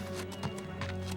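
Cartoon horse hooves clip-clopping in a steady, moderately close rhythm over a low background hum, with no other prominent sounds.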